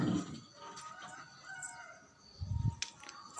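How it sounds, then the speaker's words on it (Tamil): Chickens and a rooster crowing and clucking in a narrow lane before dawn while it is still dark, with moderate calls at the start and again near the end over quiet background. "கோழியெல்லாம் கத்த ஆரம்பிச்சிருச்சு"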